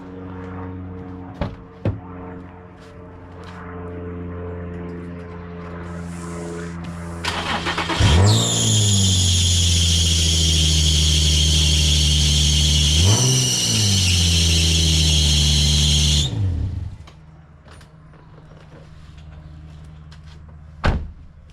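A Nissan 350Z with worn belts cranks and fires up. A loud, high squeal rides over the revving engine for about eight seconds, dips once midway, then cuts off and leaves a quiet idle with a few faint knocks.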